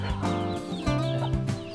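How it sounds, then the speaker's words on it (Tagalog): A native heritage hen clucking up close, a few short, throaty tonal clucks in an uneven rhythm, loud and alone. "Ito na lang yung natira na inahin natin dun sa mga manok natin"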